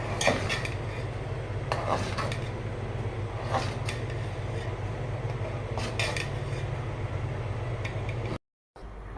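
Fish is stirred with vegetables in a cooking pot: faint scraping with occasional spoon clinks against the metal every couple of seconds over a low steady hum, with no speech.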